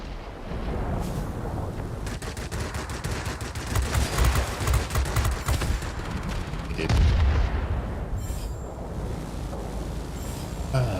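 Aircraft machine guns fire in bursts during a World of Warplanes dogfight. The rapid rattling volleys sound loud and dense over a steady engine drone for most of the stretch, with heavier thumping bursts coming near the middle.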